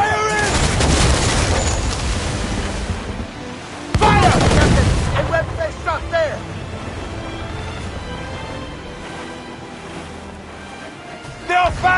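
Cannon volleys from enemy ships in a naval battle in Assassin's Creed IV: Black Flag, loud booming bursts rolling over ocean waves and wind, with a second heavy salvo midway and another at the end.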